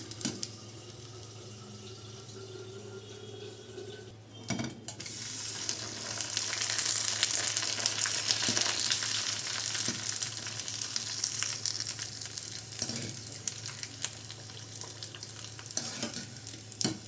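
Sago and beetroot vadiyalu (dried crisps) frying in hot oil. A soft, steady sizzle follows a dull knock and swells into a fuller, louder hiss that continues to the end.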